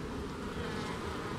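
Honeybees swarming over a flipped box during a hive cut-out, a dense continuous buzzing hum, fairly faint and steady throughout.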